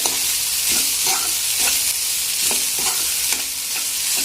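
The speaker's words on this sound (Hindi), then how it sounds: "अब हम इसमें प्याज डालेंगे। इसे मिक्स करेंगे।" Onion is stirred in a pan over hot oil, with a loud, steady sizzle broken by regular scraping strokes of a spatula, and no voices.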